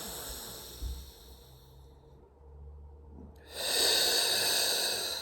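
Deep breathing during a Pilates breathwork exercise, a slow exhale that fades out followed by a strong hissing breath, close and with no talk.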